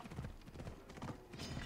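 Horse hooves gallop in Assassin's Creed Odyssey, a quick, rhythmic run of clip-clop beats played quietly throughout.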